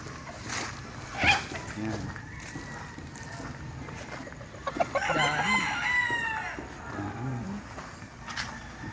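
Pure Blueface fighting roosters crow on a farm in Santa Maria, several long cock-a-doodle-doo calls that rise and fall close by, with clucking and faint voices in the background.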